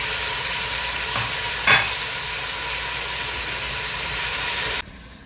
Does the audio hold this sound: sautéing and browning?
yes